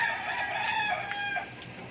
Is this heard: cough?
no